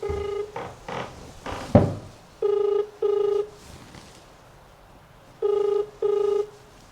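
A phone call is placed and the ringback tone sounds in clear paired bursts, two double rings separated by a pause, after a few soft knocks and handling thumps at the start.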